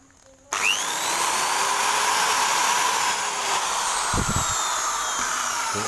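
A loud, steady high-pitched whine of an electric drill running continuously, starting abruptly after a brief quiet moment, with a couple of low thuds near the end.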